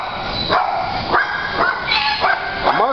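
A dog barks in sharp, yelping bursts, roughly four or five separated barks over a steady background hum, fairly close and loud with no talk.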